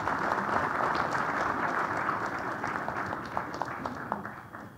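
Applause from a conference audience at a big data analytics summit greeting presenters, dense steady clapping that gradually tapers toward the end.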